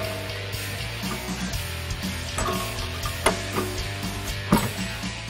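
Ratcheting and metallic clicks from a tool removing the top bolt on the rear suspension of a 2015-2023 Ford Mustang, close and moderately loud, with irregular tick sequences and a few sharper knocks over a low steady hum.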